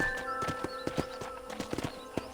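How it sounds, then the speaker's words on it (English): Horse hoofbeats from riding in Red Dead Redemption, a quick clip-clop rhythm of several hoof strikes close up over a steady game background. "let's see if you can still ride a horse"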